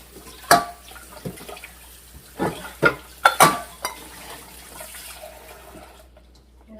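Water runs and splashes in a kitchen sink while dishes are washed, with scattered clinks and knocks of plates and utensils at close range, then the water shuts off into near quiet.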